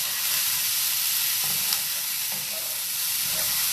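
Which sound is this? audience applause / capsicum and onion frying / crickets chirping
capsicum and onion frying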